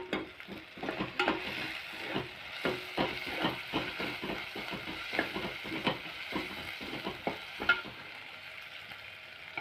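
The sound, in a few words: ingredients sautéing in a pan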